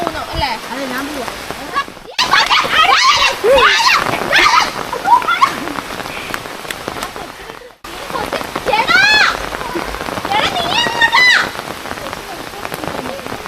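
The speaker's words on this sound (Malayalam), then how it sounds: "നല്ല പെരുമഴ പെയ്യുന്നുണ്ട്" Heavy rain pours down at a bus stop, a dense, loud patter and splatter on surfaces that continues under people talking nearby.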